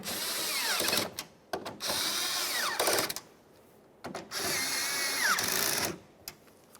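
A power drill snugs up three 10mm-headed mounting nuts on a 2011-2020 Toyota Sienna side mirror, three separate whirring bursts of a couple seconds each with short pauses between, moderately close.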